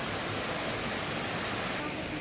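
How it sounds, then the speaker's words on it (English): A waterfall on Jeju Island pours as a dense, steady broadband rush, close and unbroken for the whole stretch, with no voices over it. "at this second waterfalls here in Jeju"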